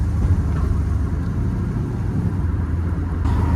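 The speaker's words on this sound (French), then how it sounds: "On va faire une petite descente au frein moteur pour le remonter" Chevrolet Camaro descending a mountain road on engine braking, a steady low rumbling engine drone heard from inside the car, continuous and fairly loud with no talk.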